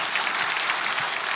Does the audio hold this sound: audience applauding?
yes